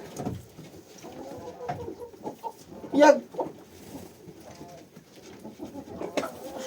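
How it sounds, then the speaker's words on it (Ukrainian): Geese honking and squawking loudly nearby, with a sharp burst of calls partway through amid ongoing clucking fowl. "так гуси кричать, думаю, що сталося"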